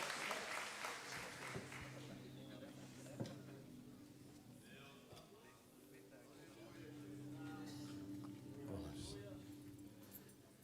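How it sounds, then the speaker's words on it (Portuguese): A church congregation claps continuously in a large room, the applause swelling and easing, with voices mixed underneath. "Aplauda o Senhor."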